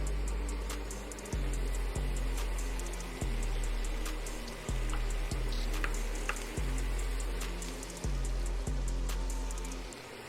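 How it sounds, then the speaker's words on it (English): Ground beef and chopped onions frying in a pan over lowered heat, a steady broad sizzle with low hum, broken by about a dozen sharp clicks and knocks at irregular intervals, no talk. "Now that the beef is cooking, I'm gonna just drop them chopped onions in there."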